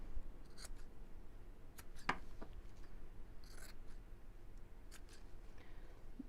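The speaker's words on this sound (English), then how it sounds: "I'm going to chop across the corners, just to cut down on the book" Scissors snip across the corners of a sewn fabric piece, a few quiet, crisp cuts scattered over a soft room background.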